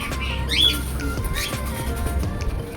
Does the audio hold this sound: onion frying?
no